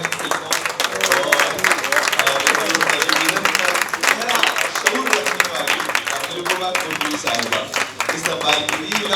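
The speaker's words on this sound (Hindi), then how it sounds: "ज़ोरदार तालियों के साथ दिव्या दत्ता साहिबा को इस्तेमाल कीजिए।" Loud, sustained audience applause for actress Divya Dutta at an evening conversation event, with dense clapping filling the whole stretch and crowd noise under it.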